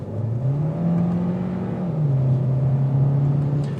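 A 2022 Hyundai Sonata Limited with a smaller engine accelerates steadily, its engine note climbing, shifting gear with a brief dip, then droning on at a steady, moderately loud whir from inside the cabin.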